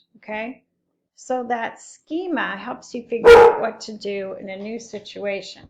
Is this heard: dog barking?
yes